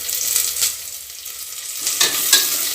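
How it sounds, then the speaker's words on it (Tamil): Onions sauté in hot oil in a pan, a bright, constant sizzle broken by a few scraping stirs, loud and close, with no talking. "நல்லா வதக்கிடணும்."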